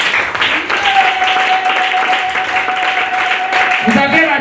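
Church congregation applauding in praise of Jesus, a continuous dense wash of clapping filling the room, with voices and a sustained tone beneath.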